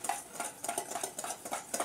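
Quick, rhythmic clinks and scrapes of a whisk beating a couple of tablespoons of ingredients in a bowl, steady and close with no talking.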